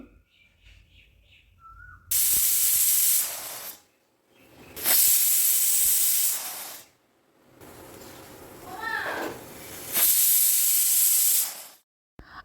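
Pressure cooker boiling potatoes vents loud bursts of hissing steam, four separate blasts each lasting a second or two, with near-silent gaps and faint background chirps between them.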